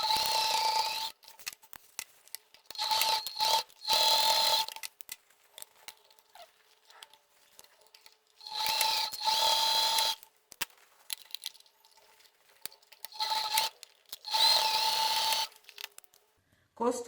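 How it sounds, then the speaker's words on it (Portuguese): Domestic sewing machine running a 1 cm seam through fabric made with milk cartons while assembling a zippered pouch, heard as several short whirring bursts separated by quiet pauses, fairly close. "E vou passar uma costura aqui de 1 centímetro."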